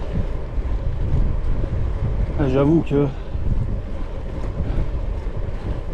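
Strong headwind buffeting a cyclist's microphone during a 300 km randonneuring ride from Anderlecht, a continuous loud low roar of wind noise throughout, with a rider briefly speaking partway through.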